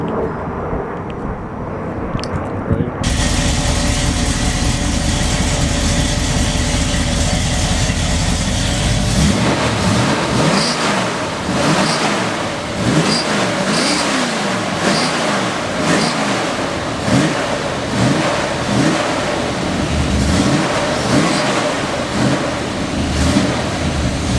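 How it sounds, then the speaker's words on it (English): A car with a stock 350 V8 engine and 350 transmission, loud and close, settling into a steady rumbling idle before a series of rhythmic revs rise and fall repeatedly over the rest. "the engine's a 350. It's a 350, and it has a little over 200 horsepower"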